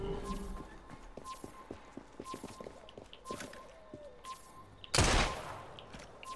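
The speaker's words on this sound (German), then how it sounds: "Ich habe auf die Hand geschossen." A single loud gunshot in Assassin's Creed Syndicate cracks out near the end, following steady horse hooves clip-clopping and carriage clatter on a street.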